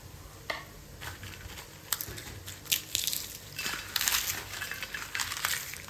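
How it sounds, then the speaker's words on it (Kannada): Fried chilies, garlic and salt crushed by hand, a series of close crunchy cracks and gritty crackles, irregular and growing busier toward the end, with no talking. "ಆಮೇಲೆ ಇದಕ್ಕೆ ಸ್ವಲ್ಪ ಉಪ್ಪು ಹಾಕಿ ಕೈಯಲ್ಲಿ ಚೆನ್ನಾಗಿ ಪುಡಿ ಮಾಡಿ ತಗೋತೀನಿ"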